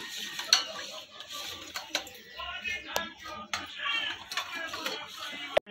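A spoon stirs Rasna mango drink with sugar, making a rhythmic series of light metallic clinks and scraping swirls, close and fairly quiet, with no speech.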